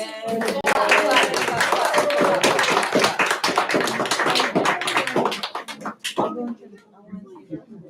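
Applause and clapping from a small audience at a Hispanic Heritage mural tile workshop, dense and steady for about six seconds before thinning out, with a few voices mixed in.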